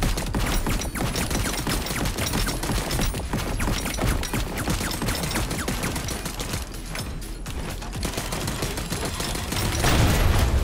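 Rapid bursts of gunfire crackle nonstop alongside booming explosions in the video game Soda Crisis, a chaotic, dense barrage that swells again near the end.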